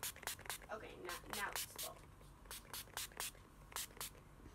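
Setting spray from a makeup product is squirted in a string of short, sharp hissing bursts, several close together, heard up close with quiet rustling between them.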